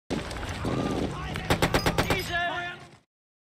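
An M3 Grease Gun submachine gun fires a short rapid burst of about eight close, loud shots in a film scene, preceded by mixed background noise and a voice.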